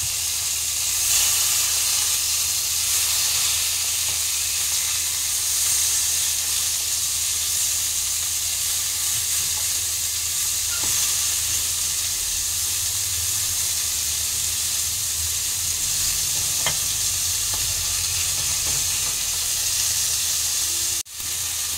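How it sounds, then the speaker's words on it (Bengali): Vetki fish frying in a pan, a continuous bright sizzle and hiss of oil that runs steadily for over twenty seconds, close and even, with faint clinks and a sharp knock near the end. "মাছগুলো একটু সুন্দর করে ভেজে নেব"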